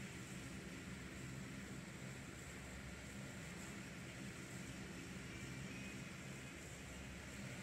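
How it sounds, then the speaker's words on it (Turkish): An airplane passes overhead in PUBG Mobile, heard as a steady, broad engine roar that holds at an even level throughout without breaks. "Uçak da geliyor."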